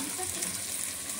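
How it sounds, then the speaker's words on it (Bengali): Soaked peas frying with spices in a pot while being stirred, giving a steady close sizzle with soft scraping throughout, no talk over it. "ভাজা এরকম করে নাড়িয়ে চাগিয়ে চাগিয়ে নাড়তে হবে।"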